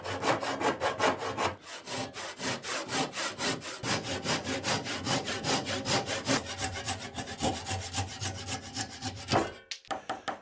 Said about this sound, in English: So I cut all of the dovetails first, and those are in the thinner oak parts.